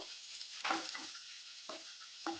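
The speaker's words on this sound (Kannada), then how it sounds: "ಇವಾಗ ಇದನ್ನು ಚೆನ್ನಾಗಿ ಫ್ರೈ ಮಾಡ್ಕೋಬೇಕು." Sliced onion and curry leaves fry in hot oil for a chicken curry, a soft continuous sizzle broken by a few close stirring scrapes in the pan.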